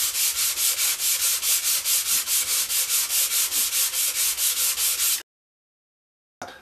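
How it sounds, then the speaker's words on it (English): 240-grit glass paper is worked by hand over an oiled Strat guitar body: rapid rhythmic back-and-forth rasping strokes, close and steady, then a short silence and one more stroke. "use some 240 grade glass paper and actually sand down the surface of the wood"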